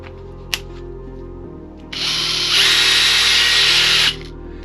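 A DeWalt 5-in-1 drill/screwdriver with its drill adapter fitted spins up in a loud, steady whir for about two seconds, then cuts off. A brief click comes before it over a low background hum.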